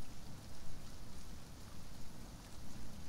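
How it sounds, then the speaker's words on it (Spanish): Steady rain falling in the survival game Sheltered, a soft continuous hiss with a rumbling low wash, fairly quiet and unbroken throughout. "como está lloviendo"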